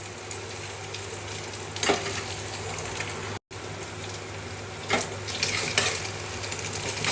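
Egg breaking up in a frying pan gives a continuous close sizzle, with a few scraping stirs, a low hum underneath and a short cut of silence near the middle.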